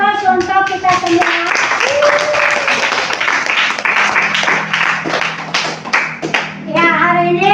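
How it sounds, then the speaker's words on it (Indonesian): A classroom of children claps together, a dense burst of hand applause lasting several seconds, with voices rising briefly at the start and again at the end. "sekali lagi berikan aplaus untuk kita semua"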